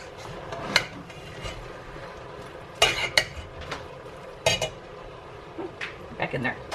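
Spoon stirring food in a cooking pot at home, a run of scattered metallic clinks and scrapes against the pot at uneven intervals, fairly close.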